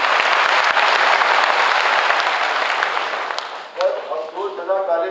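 An audience at a state disaster management authority foundation day ceremony applauds loudly for several seconds, the dense clapping fading out before a voice starts speaking over the hall.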